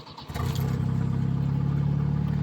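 A car engine cranks from a push-button start and catches, with no exhaust fitted, then settles into a steady, loud, throbbing idle close by.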